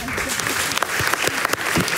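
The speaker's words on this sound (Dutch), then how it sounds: "Ja, applaus voor deze omdraaiing" Steady applause from a live audience at a Dutch lecture-style show, dense and continuous clapping throughout with a faint voice underneath.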